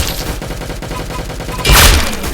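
Rapid video game gunfire in Arsenal, a dense burst of close, loud shots with a brief louder blast near the end.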